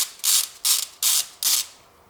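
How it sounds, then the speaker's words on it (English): A ratchet wrench turns a 10mm socket to remove a bolt on a 2002–2009 Toyota Prius, four quick, crisp clicking bursts in an even rhythm, close and alone. "we really need to take out this one 10mm bolt in here, that one 10mm socket"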